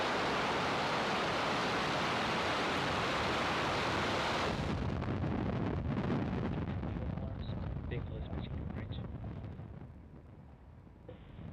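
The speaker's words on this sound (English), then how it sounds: "Ignition. And liftoff." A SpaceX Falcon 9 launching Starlink satellites from Vandenberg roars as a loud, broadband rumble that stays steady, then thins and slowly fades as the rocket climbs, with a voice talking over it.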